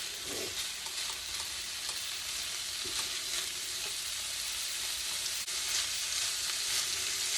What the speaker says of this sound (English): I'm going to brown this up, throw it in the crock pot